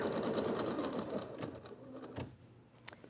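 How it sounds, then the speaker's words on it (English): An embroidery sewing machine stitches a tack-down sequence that holds fabric in the hoop for a USB fob project. It runs as a loud, steady, rapid mechanical whir with stitch clatter that eases off toward the end. "So you'll stitch your next stitch sequence, which will tack down that fabric."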